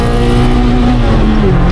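An Opel Corsa B with a C20XE engine drives on a test run, its engine droning loud and steady with a low rumble and rising tone close to the microphone.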